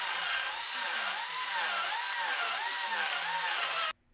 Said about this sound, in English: I'll start carving this with my die grinders again